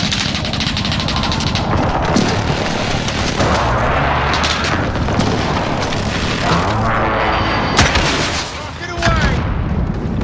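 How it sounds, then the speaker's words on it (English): Call of Duty: Modern Warfare gameplay is loud and constant, full of gunfire, booms and heavy explosions that fit a precision airstrike, with game voice lines heard throughout the barrage. "Be advised, enemy precision airstrike."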